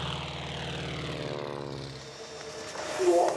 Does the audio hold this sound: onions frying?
no